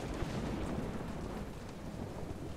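Steady downpour and low rolling thunder in the video game Telltale Jurassic Park, a dense continuous roar of rain with a deep rumble underneath, loud and unbroken.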